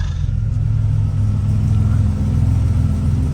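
Turbocharged Buick Grand National engine idling, its exhaust rumbling in a steady, deep, even drone close by, loud and unbroken with no voices.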